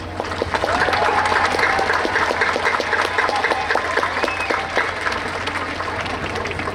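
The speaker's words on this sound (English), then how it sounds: "We really need to give them a huge thank you and a huge round of applause." Audience applause at a Charles W. Baker High School graduation ceremony, a dense steady clapping from a large indoor crowd that holds at a fairly even level throughout, with faint scattered voices and whoops mixed in.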